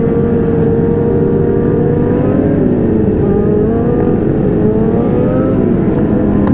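A motorcycle engine revs loudly and up close during stunt riding at a bike week event, with rising and falling pitch as the throttle opens and eases, no voices.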